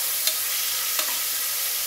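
Onion, ginger and garlic fry in a pan for mutton biryani, and a large chopped tomato goes in: a steady, loud sizzle with two faint stirring scrapes.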